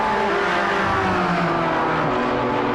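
BMW and Porsche race cars racing at Autodromo Nazionale di Monza in a three-hour endurance event, a loud continuous engine roar with shifting pitch as cars pass close by, no voices.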